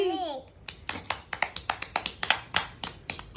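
Small hands clap in a quick irregular run of a dozen or so claps, close and crisp, after a child's brief sing-song voice at the start.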